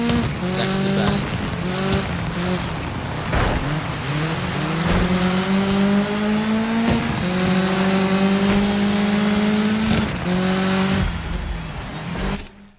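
Race cars in the DIRT 5 video game roar steadily throughout, engine notes rising and falling with gear shifts and revving as they accelerate and jostle past each other, with occasional tire squeal and skidding.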